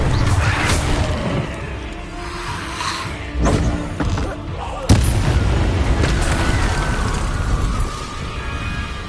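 Magical Confringo blast spells in Hogwarts Legacy, several booming bursts with crashing impacts over a busy battle soundscape, the sharpest hit near the middle and a fuller boom toward the end.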